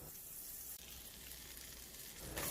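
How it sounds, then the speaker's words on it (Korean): Half a spoon of butter melts in a preheated Korean wok-style pan, giving a steady, soft sizzle that continues close by with no talking and swells slightly louder toward the end. "궁중팬을 가열시킨 후 버터 반 스푼을 넣고 녹입니다."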